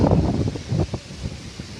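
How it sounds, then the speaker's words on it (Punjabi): Wind blowing outdoors on an overcast morning at a farm, a steady low broadband rush with soft gusts swelling and easing, close to the microphone and heard on its own without talk. "ਹਵਾ ਚੱਲ ਰਹੀ ਆ ਬਹੁਤ ਸੋਹਣੀ"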